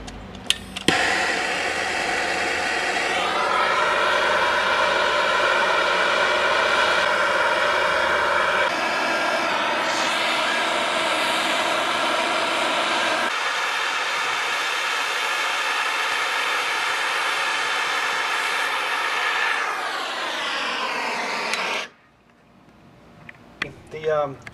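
A MAP gas torch flame heats an outdoor faucet fitting, a loud steady roaring hiss that shifts in tone partway through, then cuts off abruptly near the end, with a person talking over it.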